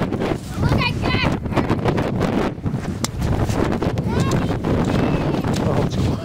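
Cold blizzard wind buffets the microphone in a steady, loud rush while people talk over it.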